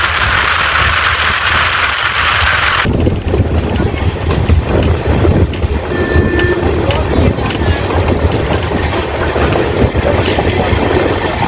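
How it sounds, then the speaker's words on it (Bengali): The Kolkata–Balurghat Tebhaga Express, an LHB-coach train, runs along the tracks with a loud rumbling roar and rattling, heavy wind buffeting at first, and a voice speaking over the continuous noise. "ট্রেন প্রবেশ করছে মির্জাপুর বাঁকিপুর,"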